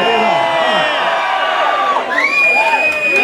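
A concert crowd at a Camden Underworld rock gig cheers and whoops loudly, many voices blending into a dense roar with shouts rising over it, close and sustained throughout.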